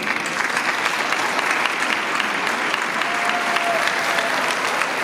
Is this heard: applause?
yes